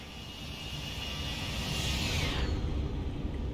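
An airliner flies past in the X-Plane 11 flight simulator, a loud steady engine roar with a rising high whine that peaks and cuts off sharply partway through, the rumble continuing alone.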